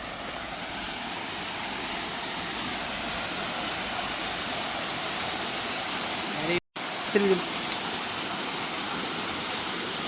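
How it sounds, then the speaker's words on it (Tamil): Broad, steady rushing water roars continuously, like a waterfall nearby, broken by a brief cut and a faint thump near the end. "வேறு ஒரு அருவி ஒன்று ஓடிக்கொண்டிருக்கு"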